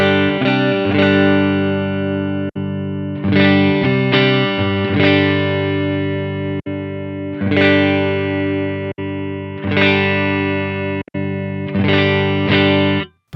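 Distorted electric guitar played direct through a Strymon Iridium amp modeler, loud sustained chords struck in groups and left ringing, each cut off by brief gaps, with rich harmonic overtones and no voices.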